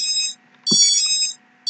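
Loud, high electronic beeps from Hubsan 501 drone ESCs in repeated long bursts separated by short gaps, with a faint click between them.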